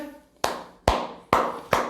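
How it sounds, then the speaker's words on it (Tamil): Four sharp hand claps ring out alone at an even, moderate pace, each a crisp, close smack with a short, quick decay. "எல்லாருமே ஜோராக கைத்தட்டுங்க."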